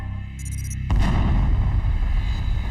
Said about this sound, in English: satellites picked up the greatest cosmic explosion ever recorded